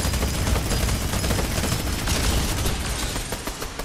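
Minigun fire in The Walking Dead video game, a dense, loud, unbroken stream of rapid shots rattling steadily for several seconds with no pause.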